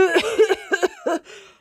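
A voice acts out a string of short, voiced, harsh coughs while pretending to be ill. The bursts come in a quick irregular run, close and fairly loud, then trail off.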